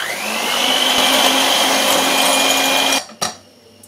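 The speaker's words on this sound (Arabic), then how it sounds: "وغادي نزيد هاد الكاكاو كما كتشوفوا وغادي نخلط" An electric mixer whirs steadily through cake batter with milk and cocoa added, a loud continuous motor drone for about three seconds that cuts off, followed by a brief knock.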